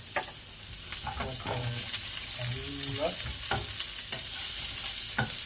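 Chopped onions sautéing in a pan for cauliflower pulao: a steady low sizzle with a few scraping stirs and light clinks of a spoon against the pan, close and moderate, with no talking.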